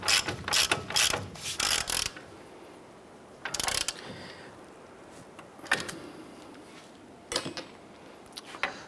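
A ratchet fitted with a 22 mm socket clicks in quick bursts while tightening the upper ball joint nut on a 2011-2018 Ram 1500 front suspension, with pauses and a few later scattered clicks, close and clear.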